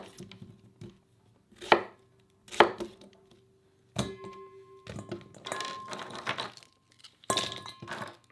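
A knife chops ingredients for caribou sausage on a board with sharp, irregular thunks and short bursts of quick cuts, close and loud between brief pauses. No one speaks.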